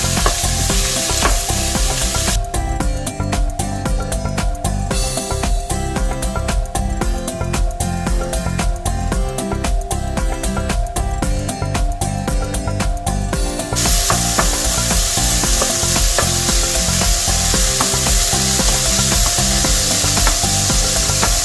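Pork browning in a pan for adobo, a loud, constant sizzle with rapid crackling and pops, partly overlaid by a rhythmic clicking rattle in the early stretch.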